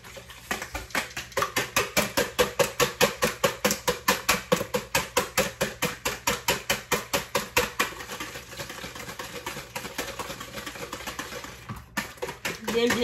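Eggs are beaten hard in a bowl, a fast even run of rhythmic clinking strokes close up that slows and breaks off near the end.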